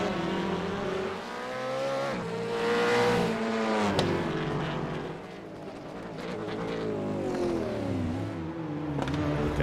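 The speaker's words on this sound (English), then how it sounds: "So they sound much more pedestrian, don't they, the TCR cars, as they descend the mountain." TCR touring race cars descend the mountain at Bathurst, several engines droning and shifting pitch as they pass, overlapping with steady mechanical whine at moderate distance and no talk.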